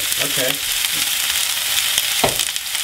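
Leafy longshucai vegetables stir-fried in a hot pan in a Taiwanese home kitchen, giving a steady loud sizzle and hiss with brief clanks of a utensil stirring, while one person briefly speaks.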